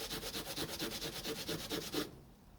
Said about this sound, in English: We can hit it with a bit of Scotch-Brite though